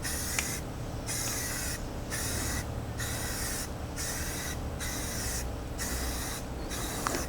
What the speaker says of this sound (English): this trigger really makes a difference in how easy it is to use a spray can when you're painting